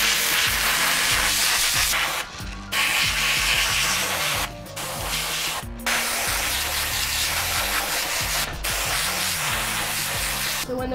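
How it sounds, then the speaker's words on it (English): An airbrush sprays paint onto a cast zombie garden gnome, giving a steady close hiss with a few short pauses, over a busy background of machine noise. "The next step, we'll take it inside and we'll start airbrushing it."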